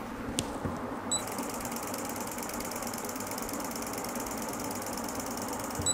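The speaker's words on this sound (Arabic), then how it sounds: "كمان الموتور على ريسيبروكيشن الصوت والاهتزاز اللي بيكون فيه قليل جدا." E-Xtreme dental endo motor running in reciprocation mode, a steady close mechanical whir with a fine rapid ratcheting pulse and a high whine that holds evenly for several seconds after a brief start.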